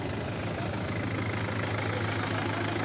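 Mahindra 585 DI tractor with a fully loaded soil trolley stuck in place, its diesel engine idling in a steady, low, continuous drone, close and constant with no talk.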